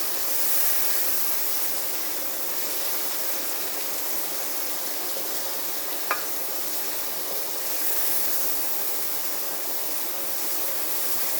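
Minced keema browns in a pan with a dense, even sizzling hiss that runs continuously, close and moderately loud, with a single faint clink of a utensil midway and no one talking.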